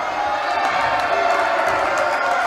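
Crowd noise at a basketball game reacting to a flagrant and technical foul call during a free throw, a steady loud roar of voices with some scattered cheering throughout.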